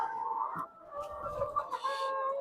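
BV380 egg-laying hens cluck and chatter close by, a few overlapping calls in a quiet setting with no talking.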